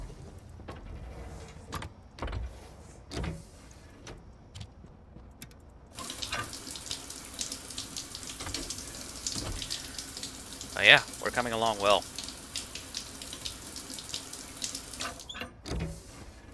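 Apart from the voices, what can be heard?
shower water running in the video game Stationeers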